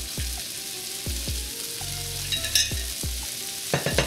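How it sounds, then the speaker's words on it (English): Garlic oil sizzles in a hot pan alongside beef, a steady frying hiss broken by repeated scraping stirs and clinks of a utensil against the pan, close and clear with no talking. "I'm gonna throw a little bit of garlic oil in the sides of the pan"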